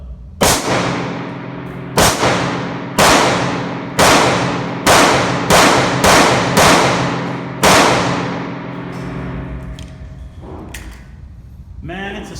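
A Ruger 57 pistol fires about nine sharp, loud shots at a target, spaced roughly a second apart with a steady, slightly uneven rhythm, each crack trailing off into outdoor echo.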